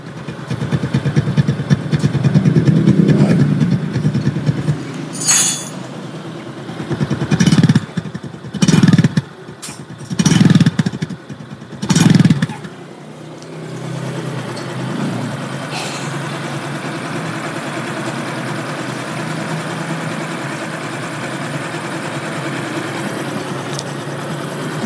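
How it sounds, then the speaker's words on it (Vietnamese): A 2024 Honda Wave 125i motorcycle idling close by, a steady low engine hum with several short throttle blips early on before settling into an even idle. "Bây giờ các bạn nghe tiếng bồ với tiếng máy,"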